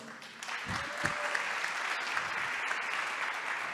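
An audience in a São Paulo event studio breaks into sustained applause, even clapping that swells after a few low thumps and holds steady at moderate volume.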